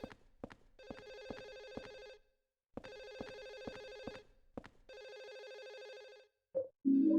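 A lost mobile phone rings somewhere in a house, its ringtone faint and muffled as if from another room, playing in repeating bursts with short gaps, then a brief louder sound at the end.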